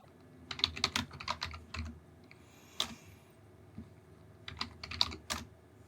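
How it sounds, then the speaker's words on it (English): Computer keyboard keys clatter in quick bursts of typing with short pauses between runs, close and fairly quiet, no voices. "now let's go ahead and type out this assembly program"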